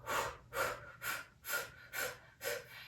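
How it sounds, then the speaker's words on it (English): Bhastrika yoga breathing: six short, forceful exhales pushed out through the mouth in a steady rhythm about every half second, close and clear with no talking. "You'll inhale through your nose. And then it's short bursts of exhale through the mouth."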